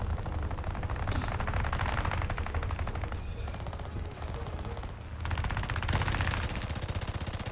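Airplane machine guns firing in War Thunder during an aerial dogfight, loud rapid bursts running almost nonstop over a steady engine drone, with one brief lull near the middle.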